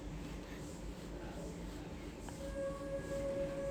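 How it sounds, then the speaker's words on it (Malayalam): Changi Airport Skytrain pulls in at the opposite platform, a low rumbling approach that swells louder near the end with a brief squeal and a rising tonal whine of the braking train. "ഇത് അപ്പുറത്തെ പ്ലാറ്റ്ഫോമിൽ ട്രെയിൻ വരുന്നതാണ്."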